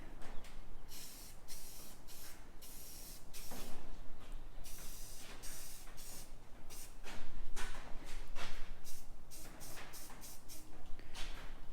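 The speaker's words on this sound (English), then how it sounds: "And we'll get this thing sprayed up." Spray paint hisses onto a welded metal folding chair storage rack in quick, uneven bursts of varying length, moderately close, with shuffling and handling noises between passes.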